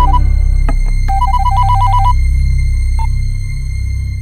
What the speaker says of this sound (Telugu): శంకరన్నకి ఫోన్ చేయ భయ్యా.